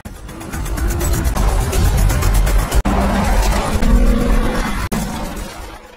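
A car speeding off in a chase between shipping containers and narrow industrial streets, a loud roaring engine with crashing, shattering impacts and abrupt cuts, cinematic action mix.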